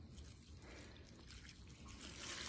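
Water poured onto the soil of a garden plant, a faint steady trickle and splash with soft dripping, quiet and without talk.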